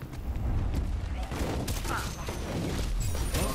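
Dr. Junkenstein's bombs exploding at a castle in a video game, a rapid run of booming, crackling blasts layered over one another, with a voice speaking over the noise.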